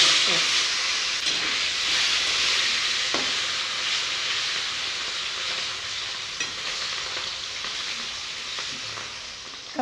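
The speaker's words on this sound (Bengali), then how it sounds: "তেল গরম হয়ে গেছে মাছগুলো ভেজে নিব লাল লাল করে" Katla fish pieces fry in hot oil in a pan, a steady, close crackling sizzle with hissing spatter that runs without a break and with no talk.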